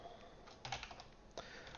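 Quiet keystrokes clatter on a computer keyboard, a short run of soft, uneven taps with a couple of slightly firmer presses, heard alone without speech.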